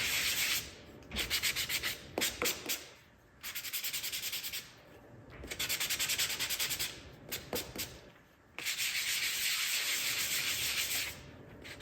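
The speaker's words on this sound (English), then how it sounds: "So I'm going to sand these up real quick, get some rough edges off and smooth them out." Wooden gnome pieces being hand-sanded smooth, a steady rasping scrape in long strokes that stop and start in several bursts, close and fairly loud with no talking.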